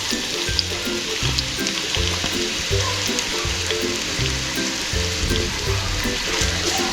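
Onions sizzling in hot oil in a pan, a steady crackling fry with a rhythmic low thumping underneath, fairly close and continuous, no voices.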